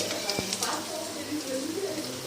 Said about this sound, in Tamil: இது நல்லா ஒரு பொன்னிறமாக வதங்க வெங்காயம் இந்தளவுக்கு பொன்னிறமாக வதங்கிடுச்சு